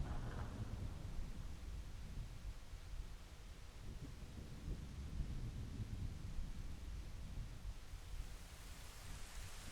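Stormy night weather in The Legend of Zelda: Ocarina of Time, a steady wash of rain with low rumbling thunder, heard alone at moderate level throughout.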